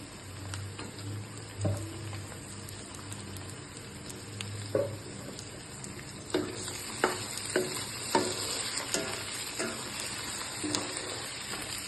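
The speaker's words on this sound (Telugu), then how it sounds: "ఇప్పుడు మనం మటన్ లివర్ వేసుకుందాం." Mutton liver frying with browned onions in a pan: a steady sizzle runs throughout, broken by a series of stirring scrapes and knocks of the spoon.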